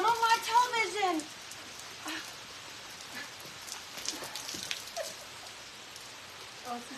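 Rain from a tropical storm falls as a steady soft hiss of drops on surfaces, preceded by a brief burst of a voice at the start.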